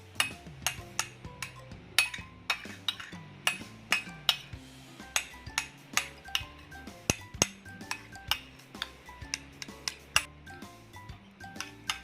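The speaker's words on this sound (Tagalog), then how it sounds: "Stir it until it's properly mixed." A utensil stirs a sandwich spread mixture in a bowl, clinking and scraping against the dish in a quick, uneven rhythm of sharp taps, close and clear with no talking.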